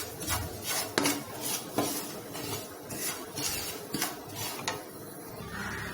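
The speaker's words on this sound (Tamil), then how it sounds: "இதை கொஞ்சம் நேரம் வறுத்துக்கலாம்." Flattened rice (aval) being dry-roasted in a pan, with a utensil repeatedly scraping and clinking against the metal in an irregular rhythm, close and moderately loud, with no voices.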